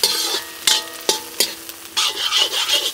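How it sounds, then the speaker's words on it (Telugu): Carrot, capsicum and cabbage are stirred in a frying pan, with a steady sizzle broken by several sharp scraping strokes of the spoon against the pan, close and fairly loud. "ఇవన్నీ ఒక్క 5 నిమిషాల పాటు కలుపుకుంటూ ఉండాలి."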